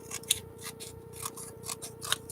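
Scissors snip through thick paper in a quiet room, giving several close, crisp cuts at an uneven rhythm.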